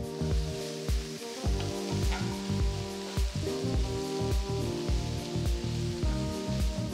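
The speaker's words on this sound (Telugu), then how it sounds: "ఉల్లిపాయలు వేసి వేయించాలి. వీటిని బాగా కలిపి 2-3 నిమిషాలు వేయించాలి." Onions fry in a pan for onion chutney, giving a steady, close crackling sizzle with rain-like spatter throughout and no voices.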